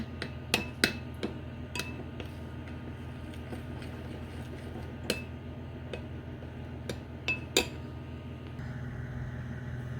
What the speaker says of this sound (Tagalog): Imimix na natin yung ating toppings.